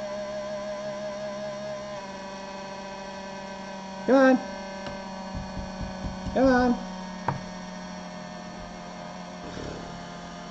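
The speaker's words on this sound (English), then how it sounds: "It sounds like the fan on the hot end." A noisy hot end fan on a two-month-old Geeetech 3D printer whines with a steady electrical hum throughout, interrupted by a few short mechanical bursts, while a person mutters briefly over it.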